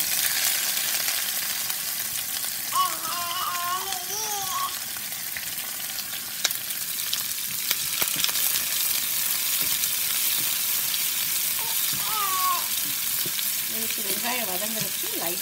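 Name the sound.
onions added to mustard seeds, urad dal, fenugreek frying in oil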